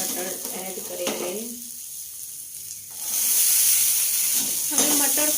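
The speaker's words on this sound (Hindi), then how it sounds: "हमें मटर को तब तक फ्राई करना है जब तक कि ये सॉफ्ट ना हो जाए" Peas are added to hot oil with golden-brown fried onions and burst into a loud, steady sizzling hiss after a brief quiet moment, with stirring scrapes near the start and end.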